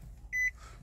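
A single short electronic chime sounds from the dashboard of a 2016 Nissan Rogue as the ignition is switched on, a clear tone lasting under a quarter second in a quiet cabin.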